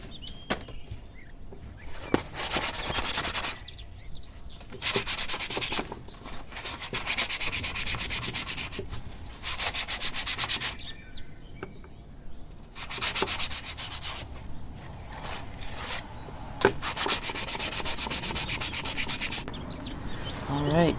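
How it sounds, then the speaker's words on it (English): Lilac wood spoon being sanded by hand with 220 grit sandpaper, steady rhythmic rubbing strokes in repeated bursts with brief pauses between, close and fairly quiet, with faint birdsong in the background. "just gonna sand this down and get it all nice and smooth"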